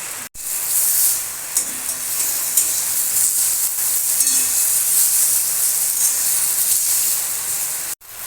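Raw green banana pieces hit a pan of oil with partly fried pointed gourd, turmeric and salt, giving a loud, steady close-up sizzle and hiss that runs unbroken apart from brief cuts at start and end.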